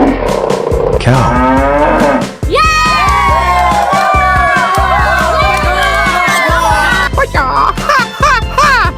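A cow moos in a 3D animal slide game, a long loud lowing call set against game music, cheering-like crowd noise and bright effects.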